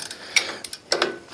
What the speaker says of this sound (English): Speed wrenches to the rescue.